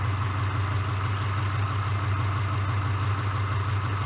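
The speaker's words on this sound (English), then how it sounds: "Rumble, that boxer engine, gotta love that" A boxer engine idles with a steady, deep low rumble that holds an even, continuous pulse throughout, loud and close with no other sounds on top.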